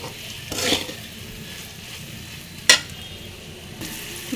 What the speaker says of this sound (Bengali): এটাকে এবার নেড়ে চেড়ে নেব।